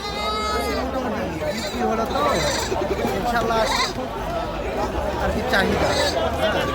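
Goats bleat repeatedly at a busy goat market in Bangladesh, their wavering cries rising over constant crowd chatter and people talking close by.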